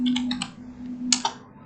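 Typing on a computer keyboard while entering commands on a Debian/Ubuntu server in VirtualBox: two short bursts of close, crisp key clicks with a steady electrical hum beneath.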